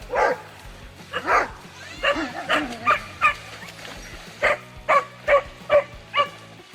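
A dog picking a fight with a kangaroo in water barks and yips repeatedly in sharp, close bursts, with short pauses between clusters of barks.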